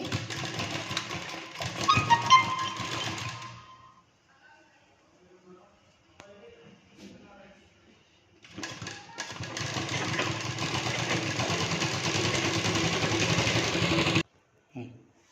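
A sewing machine stitches a blouse in two running bursts, a steady close mechanical whir broken by a quiet pause with faint handling sounds, then stopping abruptly.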